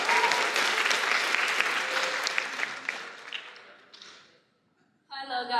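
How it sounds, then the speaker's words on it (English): A convention panel audience gives a round of applause, dense clapping that thins and fades out, followed by a short gap and then a voice beginning to talk. "Another round of applause."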